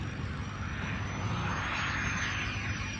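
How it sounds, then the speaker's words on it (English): Cessna A-37 Dragonfly light attack jet approaching to land at an air show, a steady broadband jet roar that holds loud and continuous throughout, with a slight swell as it nears. "What a rare airplane as it approaches to land."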